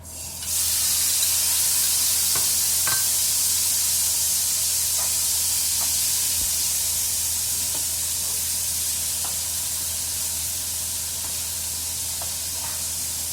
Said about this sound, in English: In goes the pork.